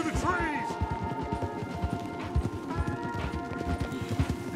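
A horse's hooves clip-clop in a quick, steady rhythm along a trail in Red Dead Redemption 2, close and clear, with a brief whinny and someone talking over the hoofbeats.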